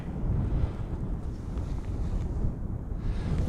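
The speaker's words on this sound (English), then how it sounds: "it's very windy out here" Strong wind buffets the microphone in a steady low roar, gusting throughout with no voices, out among the sand dunes of Death Valley.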